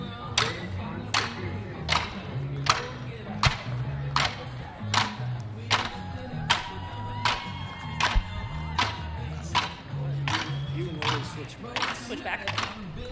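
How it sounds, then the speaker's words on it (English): A fifteen-member cadet color guard and percussion group from Armada marching in Boise's Fourth of July parade, beating sharp, steady drum strikes roughly twice a second, somewhat distant, over crowd murmur and scattered voices. "Joining us now is a cadet group of color guard and percussion from Armada"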